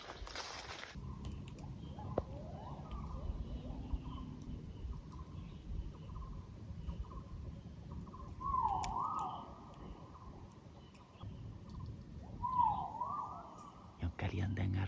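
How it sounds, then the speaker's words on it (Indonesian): A great argus pheasant calls from the forest floor at night with loud rising whistled notes, repeated twice against a steady background of insects and forest hum. "Yang kalian dengar ini suara burung kuau."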